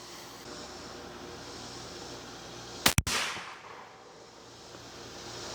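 A single sharp, loud 300 PRC rifle shot fired at a target outdoors, with a brief echoing tail fading over the next second against steady background noise.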